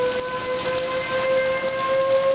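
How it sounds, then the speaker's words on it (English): Outdoor tornado warning sirens wail during a storm with high gusty winds, a steady, sustained tone that carries from a distance over faint background noise, with no voices. "those type of sirens, I don't know what they are, but they're not FS 2001s."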